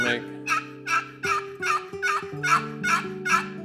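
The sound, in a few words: box call imitating turkey sounds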